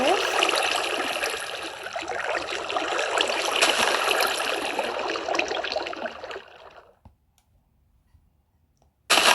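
Steady rushing water in the video game Block Crazy flows loudly for several seconds, then cuts off abruptly into near silence before a brief burst returns at the end.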